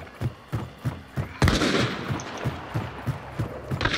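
Gunshots from Caldwell Rival slug rounds in the video game Hunt: Showdown, a string of sharp evenly spaced reports with one heavier blast echoing into a rumbling tail, then more shots, fairly close and loud.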